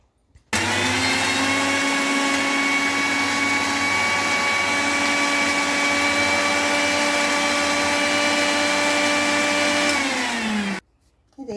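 A kitchen mixer grinder whirs loudly and steadily for about ten seconds, coarsely grinding ginger, garlic and turmeric for ginger pickle, starting abruptly and winding down at the end with no talking.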